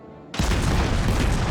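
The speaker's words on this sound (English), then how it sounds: "trying to set him on fire with high explosive shells" A German cruiser in World of Warships fires a salvo of high explosive shells: after a brief quiet moment, a sudden loud, close boom erupts and roars on as a sustained broadband rumble to the end.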